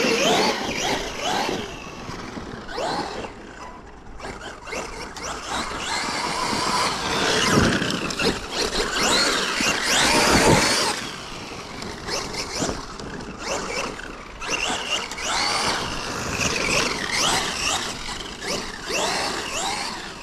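Traxxas X-Maxx XRT RC truck driving on wet ground, its electric motor whining and revving up and down over a steady rough scrabble of tires, loud and close throughout.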